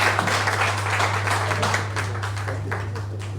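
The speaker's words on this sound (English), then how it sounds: "please another round of applause again for Dr." Sustained applause from the audience at a book launch, dense steady clapping filling the room at moderate loudness over a constant low hum, gradually easing slightly toward the end.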